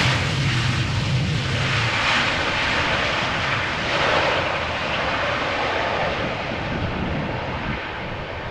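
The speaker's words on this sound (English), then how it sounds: "Right, next up is a Boeing 767 Icelandair Flight 500" An Icelandair Boeing 767 jet at Amsterdam Schiphol Airport thunders loud and unbroken, its engine roar swelling slightly and holding strong throughout without any speech.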